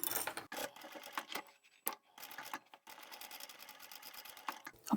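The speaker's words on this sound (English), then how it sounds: "And then I'll sew the bottom seam." Sewing machine stitching the bottom seam of a zippered pouch, a close, steady mechanical whir broken into short runs and pauses, with a few clicks and handling sounds between bursts.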